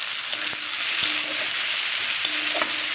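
Chopped tomato goes into softened onion frying in oil for a pointed gourd and prawn curry, raising a steady close hiss with a few soft stirring knocks, and no talking.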